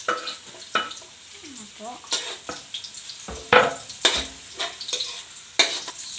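Garlic and onion sautéing in a pan for sigarilyas, a soft sizzle broken by sharp stirring scrapes and clinks, with someone speaking briefly over the cooking.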